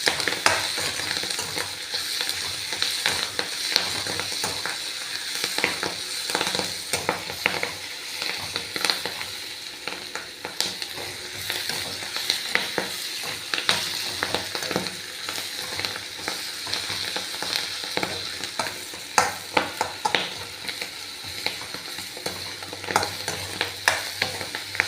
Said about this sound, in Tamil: இலை வந்து நல்லா பட்டு பட்டுன்னு வெடிக்கிற சத்தம் வருங்க